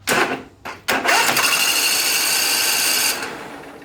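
Twin-cylinder Briggs and Stratton engine on a Husqvarna zero-turn mower cranking without starting: a couple of short starter bursts, then a steady, fast whirring spin for about two seconds that stops with no firing, loud and close.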